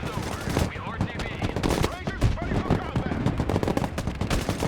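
Steady suppressive gunfire from infantry in towers in the military strategy game Broken Arrow, dense continuous machine-gun bursts and overlapping shots filling nearly five seconds at constant loudness.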